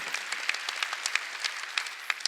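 A church congregation claps during a Korean Sunday worship service, a moderate burst of many hands with uneven, dense claps across the whole stretch, with no talking over it.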